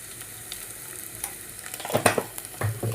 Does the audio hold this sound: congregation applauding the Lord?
no